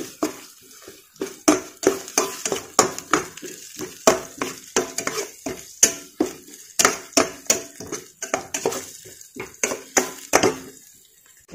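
A spoon stirs ground fennel into a spiced mixture for chicken ada in a pan, a quick run of sharp scrapes and clinks against the metal, close and rhythmic, over a soft sizzle.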